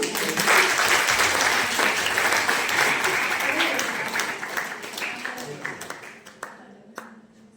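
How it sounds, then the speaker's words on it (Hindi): Enthusiastic audience applause at a menstrual hygiene and drug awareness event, loud dense clapping that slowly tapers off into scattered claps, with brief voices underneath toward the end. "जोरदार तालियां"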